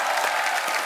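A studio audience on a comedy talk show applauds, a dense, even wash of clapping at close range that fills the whole brief moment without pause.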